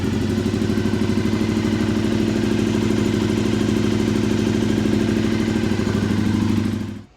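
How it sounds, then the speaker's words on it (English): A Honda VFR400 NC30 motorcycle engine idles steadily for about seven seconds while warming up after restoration, a close, loud, even clattering drone that cuts off at the end. "I'm going to run it for a bit, we'll get it up to temperature, just to make sure that the cooling system is working fine."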